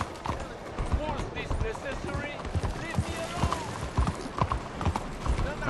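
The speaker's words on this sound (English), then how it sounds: "Okay, just having fun with our horse." Horse hooves gallop in the Red Dead Redemption 2 video game, a dense, rhythmic clip-clop of steady hoofbeats running through the whole stretch over game ambience.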